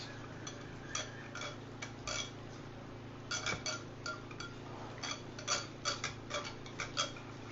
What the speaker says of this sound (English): So I'm adding 1 tablespoon of curd in excess to it, and I'll mix it.